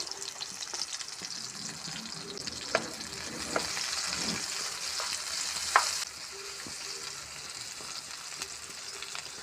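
Green chillies fry in a pan for a cauliflower masala curry, with a soft, steady sizzle, scattered crackles and the occasional light scrape of stirring, close by and with no talking.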